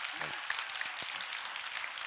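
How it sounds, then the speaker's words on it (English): Brief applause from a conference audience after an announcement about designing a new protein, a soft, steady patter of clapping under a voice speaking at the same time. "A big round of applause for that."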